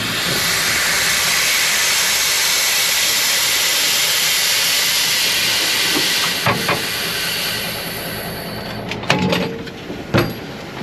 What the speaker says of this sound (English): Just going to take some air out, just take some weight off the turntable as we're reversing.